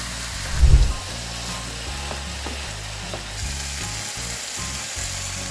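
Tomato juice hisses and sizzles loudly in a pan with eggplant and chicken, a constant close frying crackle opening with a brief heavy thump.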